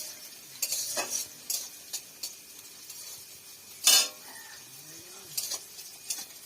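Soft frying in a pan with a gentle sizzle, broken by scraping stirs and a sharp clink of a utensil against the pan near the middle.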